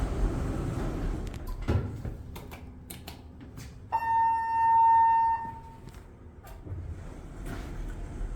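A TKE hydraulic elevator door with a history of door issues moves in a stainless steel cab, with clicks and rattles, then a sustained bright chime-like tone about a second and a half long, then more faint clatter.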